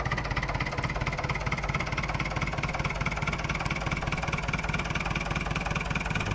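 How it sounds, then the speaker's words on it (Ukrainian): Tractor engine in Farming Simulator 2009 running at a steady idle-like drone, with a constant low rumble and mid-pitched whine sustained evenly throughout, no voices. "А, ні, краще на тракторі під'їхати."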